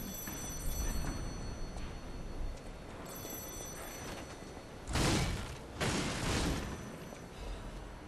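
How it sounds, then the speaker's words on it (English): Telephone ringing in the video game Lies of P, a faint repeating electronic ring in the background, interrupted by two loud booming bursts. "A phone."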